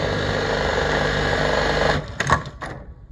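A New-Tech GC-783DT lockstitch buttonholing sewing machine runs with a fast, even mechanical whir for about two seconds, then stops and leaves a few clicks and clunks.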